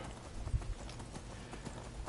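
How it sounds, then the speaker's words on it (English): A horse ride in Skyrim brings steady, muffled hoofbeats in a quick rolling rhythm. They sit under a dense wash of broadband game noise and stay at an even level throughout. "Let's hop on the horse and ride off"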